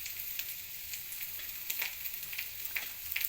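Garlic, onion and about ten peppercorns frying in a pan, with a soft steady sizzle and a few sharp crackles and pops standing out near the end.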